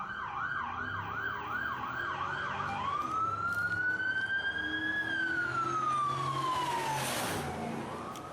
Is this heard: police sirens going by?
yes